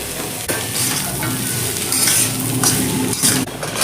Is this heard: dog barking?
no